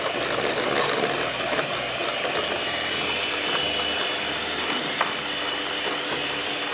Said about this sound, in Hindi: अब हम तीसरा अंडा डालेंगे और थोड़ी देर इसको हम बीट करेंगे